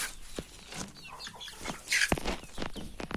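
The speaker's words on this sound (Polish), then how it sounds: "Tu mamy kolejną kurę" A hen clucks in short, scattered calls at close range while poultry are shut in for the evening, with a few sharper squawks in the middle and no talk.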